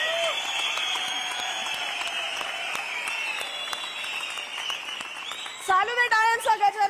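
Audience at a live Paani Foundation public event claps steadily and densely while a voice talks over it through much of the time, the applause dropping away near the end into louder speech.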